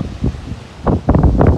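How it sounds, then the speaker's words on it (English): Wind gusts buffet the microphone on a beach at high tide with rough water, loud low rumbling whooshes building toward the end, no talking. "Sorry about the wind."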